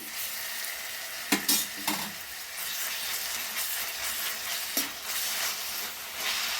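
Ginger garlic paste with capsicum frying in a pan for vegetable fried rice, a steady close sizzle with a few scraping stirs of a spoon against the pan, no talk.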